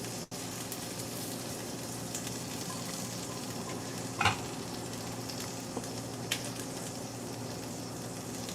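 A pot of kapusniak, the Polish sauerkraut soup, hisses and sputters steadily as steam escapes while it cooks, a constant bubbling hiss broken by a couple of brief louder pops.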